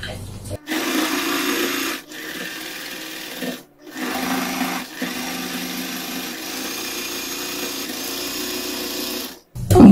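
Sewing machine stitching an apron in steady whirring runs, starting and stopping a few times with brief pauses between bursts, close and fairly loud.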